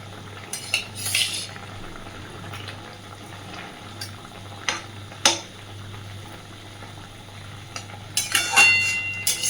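Fried bhola fish added to curry boiling in a pot, with scattered metal utensil clinks and scrapes against the pot over a soft bubbling background, a few louder clatters near the end.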